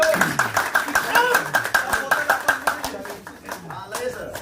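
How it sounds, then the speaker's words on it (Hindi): An audience at a diamond-level business meet breaks into clapping, with quick, fairly rhythmic claps running beneath a speaking voice throughout. "रजत जी का दिमाग के लिए जोरदार तालियां होंगी"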